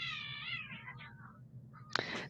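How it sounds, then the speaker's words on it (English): Two cats fighting somewhere nearby, drawn-out wavering yowls and caterwauls that rise and fall, then a sharp hissing screech near the end, moderately distant and fairly faint. "I think there's two cats fighting somewhere."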